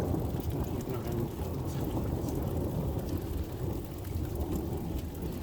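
Heavy rain and rumbling thunder roll on steadily through a thunderstorm in Stocksbridge, UK, a dense low roar filling the whole stretch with no clear separate cracks.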